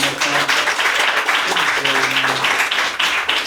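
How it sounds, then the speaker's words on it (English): Dense applause from a comedy show crowd, steady and sustained throughout, with some voices and cheers mixed into the clapping. "Round of applause for all of yourselves"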